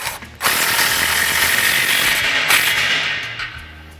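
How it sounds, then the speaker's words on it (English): A 3/8-inch air impact gun with a 15 mm socket tightening exhaust clamps on a 2009-2018 RAM 1500 after an MBRP XP Series muffler install, giving one loud, sustained rattling burst of about three seconds, close up. "I'm going to take my 15 on my 3/8 gun, tighten these up."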